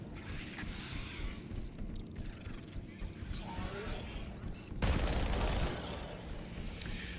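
Rapid SMG gunfire in the Halo campaign fighting Flood combat forms, dense bursts of shots with a louder stretch near the end, mixed with game effects and someone talking over it.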